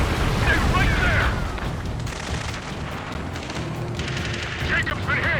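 A missile explosion in the Ace Combat 7 flight game rumbles heavily at the start, then fades into continuous battle noise with further blasts, loud and dense throughout.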